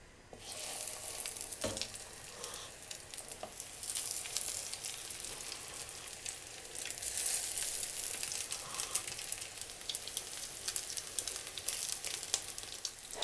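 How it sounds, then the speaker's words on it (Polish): Steady, even sizzling of egg patties frying in olive oil, a bright crackling hiss that holds on without pause and with no talking. "smażymy z każdej strony e, ze 3 minuty, aby ładnie były zrumienione"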